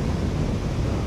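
Rough, choppy water stirred up at a cast-net fishing spot gives a dense, continuous rushing wash, loud and close, with wind noise blended in and no voices.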